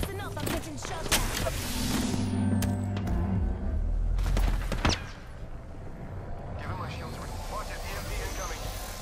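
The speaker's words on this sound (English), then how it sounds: "Listen up, I'm getting shot at." Video game gunfire aimed at the player, bursts of sharp shots and impacts clustered early and mid-clip, then quieter, with a player talking over the action.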